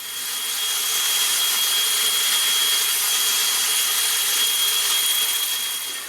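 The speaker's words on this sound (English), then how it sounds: "Okay, so I'm going to continue sanding this now and reapplying oil" A walnut live edge platter is sanded as it spins on a woodturning lathe, giving a loud, steady, even whir with a constant high whine, running unbroken with no pauses or talking.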